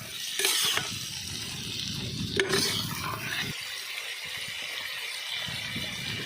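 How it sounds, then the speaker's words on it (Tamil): Mutton chops sauté in a pan with a steady sizzle, broken by a few sharp stirring scrapes and clatters, close up with no speech. "கறி கொஞ்சம் சலசல படங்கட்டும், அது வரையும் கொஞ்சம் வதக்கிட்டே இருப்போம்."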